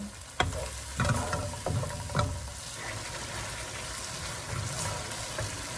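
Blended curry paste frying in oil over a medium-low flame for a Malay fish curry, a soft steady sizzle broken by several close scraping stirs early on, with no talking.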